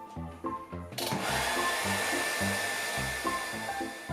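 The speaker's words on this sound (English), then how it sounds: "I'm going to use a hairdryer switched on to cold air" A hairdryer set to cold air switches on about a second in and then blows in a steady, loud whir. Before it starts, an unrelated pulsing hum is heard.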